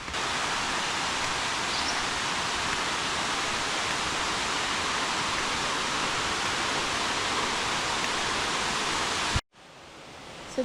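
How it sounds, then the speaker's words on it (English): A waterfall at Starved Rock State Park, in a sandstone canyon, roars with a steady, dense rush of falling water that holds constant for nearly the whole stretch before cutting off abruptly near the end. "Oh yeah, this is going to be the best waterfall we've seen here at Starved Rock."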